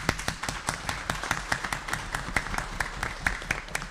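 An audience at a community board of directors candidates' meeting claps steadily for about four seconds, the individual claps sharp and fairly evenly spaced, suggesting a modest crowd rather than a roaring one.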